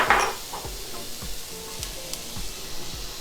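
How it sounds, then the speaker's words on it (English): Chopped vegetables sauté in about a tablespoon of olive oil in a pan for Philly cheesesteak egg rolls. A soft, steady sizzle runs under a run of regular, dull stirring knocks, louder at the very start. "We have about a tablespoon of olive oil in the pan. So let's start sauteing our veggies."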